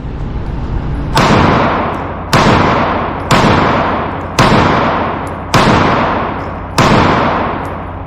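Six loud, evenly spaced pistol shots from a Sig handgun during a recoil test, each a sharp crack with a long decaying echo, close by and with no talk.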